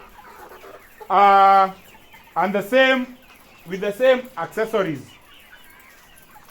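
Laying hens in a small cage setup holding 64 birds give off a few loud, close clucking calls in separate bursts, with someone talking quietly in the background.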